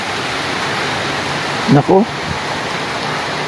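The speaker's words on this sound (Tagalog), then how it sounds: "Ulan, hangin magkasama." Heavy rain and strong wind pound steadily through a storm in the Philippines, a dense constant wash of noise, with a voice briefly speaking near the middle.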